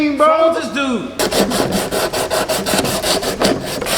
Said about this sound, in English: I'm gonna start sanding these pieces.